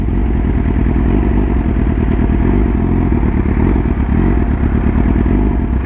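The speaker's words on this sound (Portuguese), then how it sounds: "A moto já tá oscilando, ó." A motorcycle engine runs loud and close on adulterated gasoline, rough and uneven with a sputtering, clattering note that holds steady throughout.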